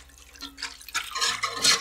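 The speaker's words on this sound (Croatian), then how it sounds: "idemo dodati vodu za juhu" Water trickles into a pot of potato soup with flour dumplings as a whisk stirs it, giving irregular close splashes and drips that grow a little louder over about two seconds, with no voices.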